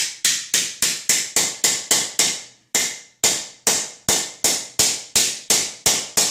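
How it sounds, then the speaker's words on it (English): Copper sheet is hammered on a forming block: sharp, loud metallic blows come close by in a steady rhythm of about three per second, with one brief pause before they carry on, and no voices. "which we put back into our forming block and our hammer and make a little noise"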